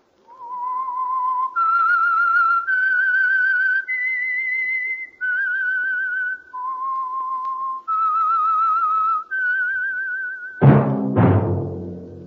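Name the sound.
whistled tune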